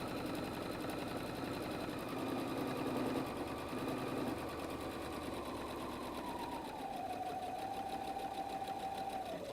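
A sewing machine runs steadily and closely, back-stitching along a strap on a messenger bag at a 2.5 stitch length; its rapid mechanical chatter holds unbroken throughout, with a slight pitch drop partway as the speed eases.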